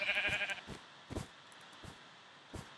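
Sheep bleating in the video game Minecraft: one drawn-out bleat up front, then a few soft, short footstep-like taps spaced apart, fairly quiet overall with no talking.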